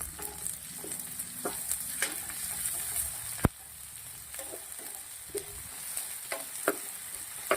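Bell pepper, spicy chillies, curry leaves and ginger-garlic paste sauté in a hot pan, a steady sizzle broken by intermittent scraping stirs and clicks of a spoon against the pan, close and alone.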